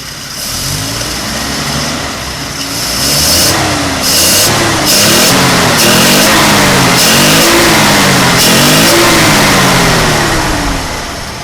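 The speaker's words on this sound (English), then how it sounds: "Sound of the air going through the carburetor is the loudest thing in the engine bay." A Chrysler Windsor flathead engine idles loudly up close with a rough, pulsing rumble and a breathy rush of air through the carburetor, revving up slightly partway through.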